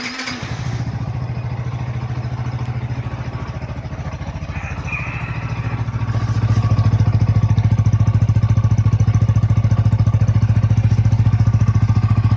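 A Yamaha All New Vixion R motorcycle engine fires up after a brief starter whir and settles into a steady, close, rhythmic idle that grows slightly louder and fuller after a few seconds.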